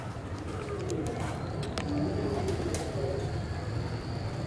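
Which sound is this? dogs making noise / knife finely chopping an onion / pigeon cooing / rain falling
pigeon cooing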